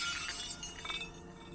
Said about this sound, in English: The sound of smashing glass filled the entire chamber.